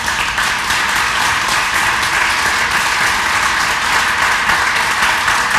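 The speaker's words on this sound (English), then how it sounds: "I want you to join me in a big applause for our panel." An audience at a town hall meeting on tree mortality gives the panel steady, dense applause, loud and continuous throughout with no break, many hands clapping together.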